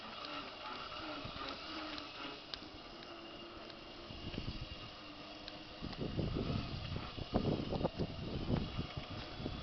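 A child's electric ride-on tractor driving, its whirring motor and gear drive grinding and clattering steadily, growing rougher and louder in the second half, with no talk over it.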